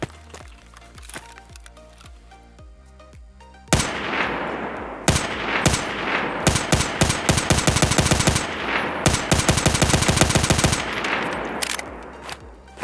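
SA-58 rifle fired in the video game Escape From Tarkov, with loud sharp shots in quick bursts and rapid strings of fire, preceded by quieter mechanical clicks and set against a steady low background hum.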